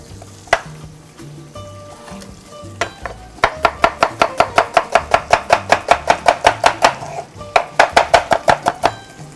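A knife chops onion and carrot on a board for chicken escabeche. A few spaced cuts give way to a fast, even run of close, crisp strokes, a brief pause, then more rapid chopping.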